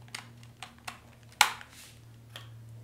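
Sparse keystrokes on a wireless keyboard connected to a TCL Google TV tap out one at a time, soft and close, with one sharper louder press midway over a low steady hum.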